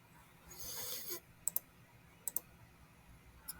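Computer mouse clicking in a Minecraft menu, a few sharp faint clicks in pairs and singles spaced over a few seconds, after a brief soft rustle.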